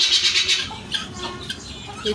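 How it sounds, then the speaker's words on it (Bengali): Guineafowl on a poultry farm give harsh, scratchy squawking calls, a few short rasping bursts close by, with faint background noise. "চিল্লা হইলো তিতির পাখি বেশি।"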